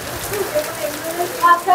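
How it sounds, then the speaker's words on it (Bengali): Heavy rain falls outside a resort reception at Panchalingeswar, Odisha, as a steady, fairly loud wash of patter with a brief muffled voice-like murmur. "বাইরে প্রচণ্ড বৃষ্টি পড়ছে।"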